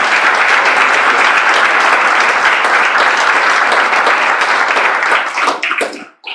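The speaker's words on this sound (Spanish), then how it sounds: "Denles ofrenda de palmas a Dios en esta mañana" A church congregation at a Sunday morning service claps loudly and continuously in praise to God. The thick, roaring applause holds steady for several seconds, then breaks into scattered claps and drops off abruptly.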